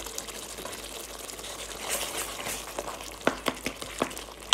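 Fish frying in oil in a pan gives a soft, steady sizzle, punctuated near the end by several sharp pops and spatters close by.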